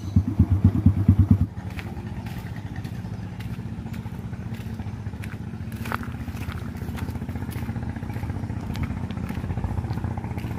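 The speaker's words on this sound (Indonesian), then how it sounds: "Saya akan parkir motor dulu guys" A motorcycle engine idles close by, pulsing loudly for the first second and a half before dropping to a steadier, quieter running hum as the bike is brought to a stop and parked beside a house in rural Soppeng.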